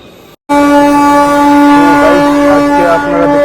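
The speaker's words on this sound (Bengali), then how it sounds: "আপনারা দেখতে পাচ্ছেন এখানে যে ট্রেনটা আছে এটাতে আমরা যাচ্ছি না" A train at Samsi railway station sounds a loud, sustained horn-like drone after a brief pause, holding steady for several seconds with faint fluctuations over the station's background noise.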